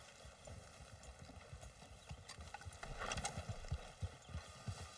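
Steady horse hooves clip-clopping at a walking pace in the video game Red Dead Redemption 2, fairly quiet, with a faint low hum underneath.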